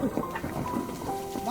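Steady rain falls at night, a dense hiss under nearby voices talking.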